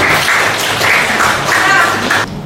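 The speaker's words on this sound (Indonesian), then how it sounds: "Tepuk tangan untuk Kak" Audience applause for a student after a poem reading in an Indonesian language lesson: a steady wash of clapping from several people, fairly loud, lasting about two seconds and then cutting off abruptly.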